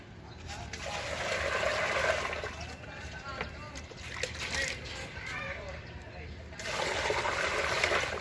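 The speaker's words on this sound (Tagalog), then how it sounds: "tubig to sa styrofoam" Water splashes and trickles as it is poured into a styrofoam box used for hydroponic planting, a steady close pour that pauses midway and resumes, while a person talks over it.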